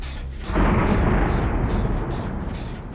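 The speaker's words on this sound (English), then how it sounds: "Oh, the thunder didn't scare me at all." Loud rolling thunder in a horror video game, a sudden booming crack that swells and then rumbles on steadily without fading.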